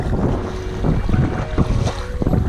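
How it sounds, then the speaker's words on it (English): Rushing river rapids on the Peace River near Fort St John, British Columbia, heard while paddling through them, with churning water under heavy, buffeting wind noise on the microphone. "we're going through a nice little set of rapids here"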